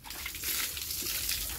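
Water poured over someone during a bath at home, a soft continuous splashing rush heard close but fairly quiet for under two seconds, with no talking.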